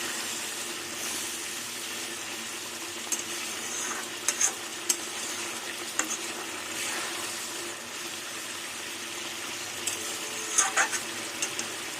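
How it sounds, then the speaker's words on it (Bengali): A spatula stirs tengra fish curry in a pan with raw mustard oil, cumin, mustard and ginger, a steady close sizzle with scattered scraping clicks and metal taps, no voices. "একটু খুন্তি দিয়ে নাড়িয়ে দেবো যাতে একটু সর্ষের তেলটা ছড়িয়ে যায়।"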